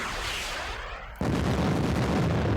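An anti-tank team opens fire on tanks in a Middle East 67 wargame, with a dull rumble giving way to a sudden loud blast and a sustained roar of gunfire that carries on to the end.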